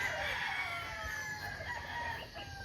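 Chickens and a rooster at a Filipino gamefowl keeper's yard, with a rooster crowing and hens clucking steadily at moderate distance over constant yard noise, no talk.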